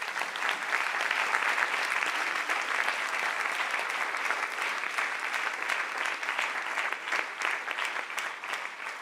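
Steady, sustained applause from an audience at a morning retreat session, dense and even throughout without fading.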